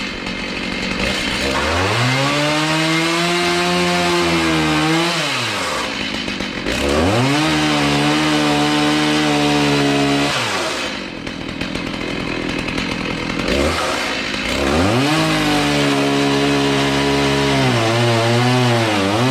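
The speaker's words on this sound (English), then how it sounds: "where I use the chainsaw" A chainsaw cuts through a wooden garage door header in a workshop, loud and close, its engine rising and falling in three long cutting passes with brief idling drops between them.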